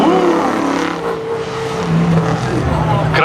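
A Camaro drag racing at Seekonk Speedway during Memorial Day spectator drags, its loud engine roaring steadily nearby as a commentator talks over it.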